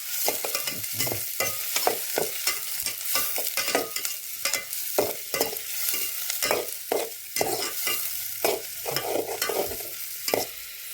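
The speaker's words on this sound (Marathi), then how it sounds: "कांदा, याला आपण मस्तपैकी आता परतवून घेणार आहे" Onion being stirred and sautéed in a pan over a wood-fired village stove, with repeated scraping strokes of the spoon over a steady close sizzle for several seconds, no talking.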